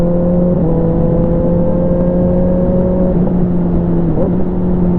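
A motorcycle engine hums loudly and steadily at close range after an oil change, its tone stepping down and shifting a couple of times as gears change, with constant wind rush and no talk.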